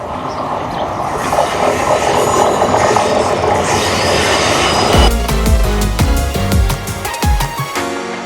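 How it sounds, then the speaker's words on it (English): A loud train rumbles past close by at the back entrance of the Philadelphia Zoo, a steady roar giving way to rhythmic clacking of wheels over rail joints and some metallic squeal. "What is that sound? Oh, the train."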